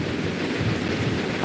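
Steady rain falling through a full day of wet weather, a dense, even hiss that never lets up, with no voices over it.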